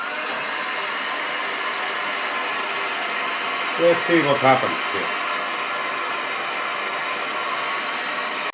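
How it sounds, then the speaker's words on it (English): A heat gun blows a steady, loud, broadband hiss of air as it warms up, running unbroken throughout while someone briefly speaks over it midway. "I have here a heat gun, and I'm now starting to warm it up"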